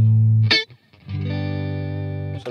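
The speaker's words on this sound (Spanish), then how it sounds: "Vamos a poner un poquito de reverb." A distorted electric guitar through a V30 cabinet impulse response with a touch of reverb added: a loud held chord, a brief choppy break, then another sustained chord ringing out.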